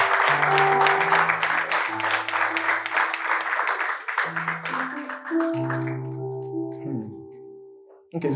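A church congregation claps enthusiastically for a worship team, dense sustained applause that gradually thins out while sung or held notes linger underneath toward the end.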